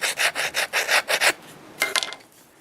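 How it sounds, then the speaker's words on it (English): A wood turning scraper edge is honed on a diamond stone in about eight quick, even rubbing strokes, then a pause and a few shorter scrapes, up close and with no voices. "I'm just going to take my diamond stone and just nice wide edge here"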